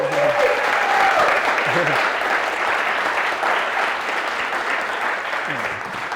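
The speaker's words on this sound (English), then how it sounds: "Let's start with a round of applause." An audience at a talk applauds, a thick, sustained wash of clapping that slowly fades while voices speak faintly beneath it.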